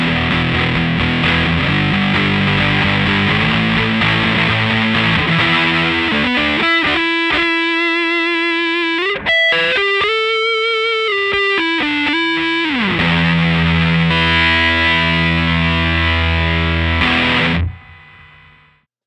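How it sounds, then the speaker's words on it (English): Heavily distorted electric guitar through a Godcity Instruments Brutalist Jr. pedal at maximum distortion, playing loud, saturated chords and sustained bent notes, fuzzy and dense throughout before cutting off at the end. "And now the distortion turned up to the max."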